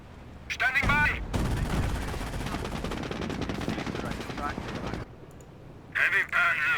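Rapid machine-gun bursts and rifle fire from the World War II strategy game Company of Heroes, a dense rattling volley lasting several seconds between short radio-style voice lines.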